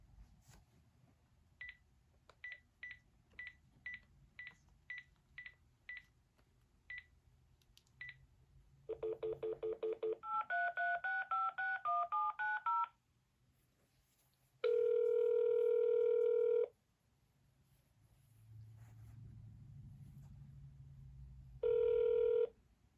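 A telephone call being placed: a quick series of keypad touch-tone beeps, then a rapid burst of dialing tones, followed by long steady dial and ringback tones with quiet gaps, clear and alone.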